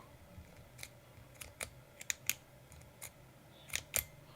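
A retractable stainless steel pen clicked several times up close. The crisp, faint clicks come in an uneven series over a quiet background.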